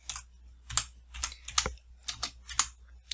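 Keys tapped on a computer keyboard while a folder name is entered, a close, quiet run of about a dozen quick clicks in short uneven bursts, with no voices.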